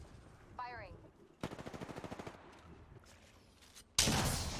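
Gunfire in Apex Legends, a rapid automatic burst of about a dozen evenly spaced shots, then a short lull and a sudden loud blast near the end, all fairly close and with no one talking.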